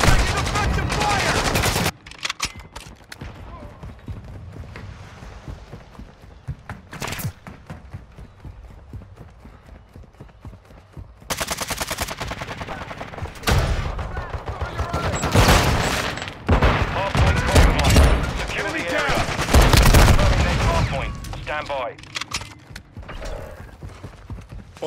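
Rapid bursts of automatic gunfire and scattered shots in Call of Duty Modern Warfare 2 on the Alboran Hatchery map, loud and dense with brief lulls, with voice callouts mixed in.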